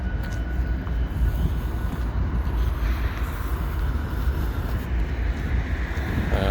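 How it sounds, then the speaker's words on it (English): A train somewhere in the distance during a night walk around Hochelaga, a low steady rumble that holds evenly throughout beneath faint city ambience. "Definitely hear a train somewhere."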